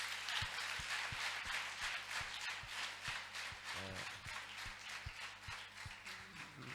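A church audience claps for a youth choir, with scattered, uneven hand claps and taps sounding moderately near over a soft background hum, quiet overall and without voices.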